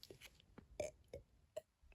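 A burp in a quiet room during a late-night drawing session, a short throaty belch among a few soft mouth and movement noises, close and faint, with no talking.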